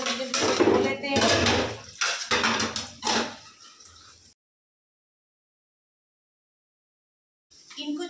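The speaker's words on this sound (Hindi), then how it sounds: "अब थोड़े से बर्तन हैं, इनको जो है वो जल्दी जल्दी धो लेते हैं।" Dishes, pots and utensils washed by hand in a village home, with clattering metal and running water in bursts for about four seconds, then silence before a brief return. A voice talks faintly at times.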